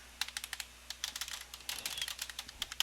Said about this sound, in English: As you hear, I'm pressing keys, nothing's happening.